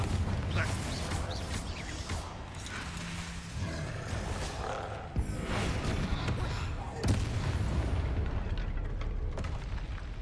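Confringo and Bombarda spells explode in combat in the Hogwarts Legacy video game: heavy booming blasts and roaring bursts, one after another and fairly close, over a continuous rumble.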